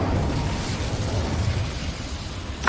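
A booming Incendio fire spell blast in the video game Hogwarts Legacy, a loud rumbling burst that fades, with a sharp crack at the very end and no talk.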